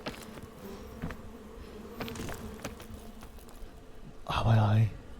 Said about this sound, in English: Why are there even more bees?